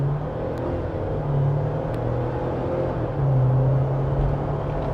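A 2025 Jeep Wrangler Rubicon X pulls away from a stop under throttle, its engine humming and rising in steady drones, with a moderate, even rumble and a slight surge of revs toward the end.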